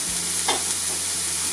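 Steady loud sizzling of onion frying in a pan, with a brief scrape of stirring partway through.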